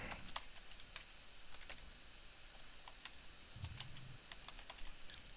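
Someone types text on a computer keyboard, a quiet irregular patter of light key clicks in short bursts with brief pauses and no talking over it.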